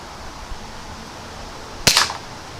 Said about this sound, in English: And we'll shoot another one of those.